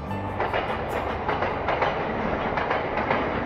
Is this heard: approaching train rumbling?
yes